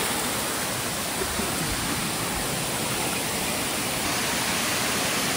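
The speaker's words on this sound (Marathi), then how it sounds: "आणि वॉटरफॉल तिथे आहे." Water pours past a small built dam wall near a waterfall in a green village setting. The roar is dense and constant, loud and close, with no breaks.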